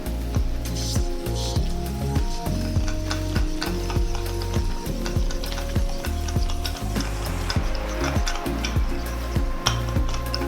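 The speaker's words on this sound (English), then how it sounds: "Now what we want to do is mix it together." Continuous stirring and scraping in a bowl, with busy clicking and squishing textures over a steady low background hum, no voices, while mixing ingredients including salt for buffalo tofu.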